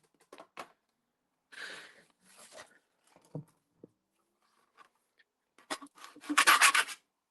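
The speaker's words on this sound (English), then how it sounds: "I'll just scrape all the extra bits off there into the bin" Washi tape scraps being scraped off a scrapbook page into a bin, a few short rubbing scrapes early on, then a louder, denser burst of rasping scrapes near the end, close by with no talk.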